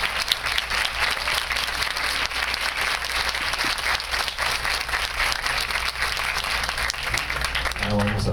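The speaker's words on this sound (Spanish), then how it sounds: "Fuerte el aplauso." Audience at a women's conference in Mexico breaks into steady, sustained applause, a dense wash of clapping from a large room, with faint talk near the end.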